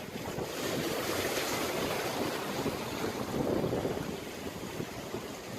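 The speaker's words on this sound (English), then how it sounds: "the waves are coming in big" Big ocean waves rolling in on a rocky Texas shore, a steady surging wash of surf mixed with heavy wind noise, continuous and fairly loud with no voices.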